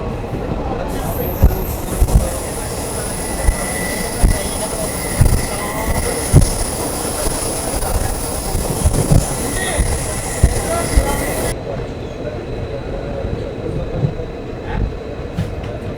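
Passenger train rolling toward Cherukara station, with a steady rumble, repeated wheel clicks over rail joints and a long high wheel squeal that cuts off partway, heard from on board with faint voices in the background.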